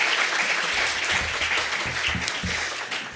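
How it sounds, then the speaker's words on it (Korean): A church congregation applauds loudly to welcome a visiting missionary, dense, sustained clapping from many people, with low thumping from the room or someone approaching underneath. "우리 나오실 때 힘찬 격려의 박수로 환영하겠습니다"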